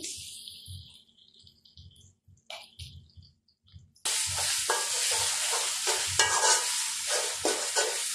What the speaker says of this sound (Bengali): নাড়াচাড়া করে একটু নরম হয়ে আসবে, তখন মশলা দেব। এখন একটু আদা পেঁয়াজ বাটা দিচ্ছি।